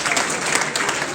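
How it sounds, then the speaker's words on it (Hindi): A crowd at a motivational lecture claps loudly for the teachers, a brief burst of dense, energetic applause filling the space. "तालियों से उनका अभिनंदन करते आएंगे सर।"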